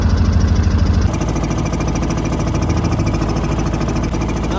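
A motor boat engine on the Ganga river at Kashi runs loud and close with a steady low chugging drone, its rhythm shifting slightly after the first second as the throttle changes.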